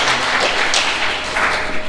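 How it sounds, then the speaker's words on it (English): A club meeting audience applauding after an evaluation report, a soft, continuous patter of clapping hands at moderate distance, with a faint voice beneath it. "Give it a round of applause."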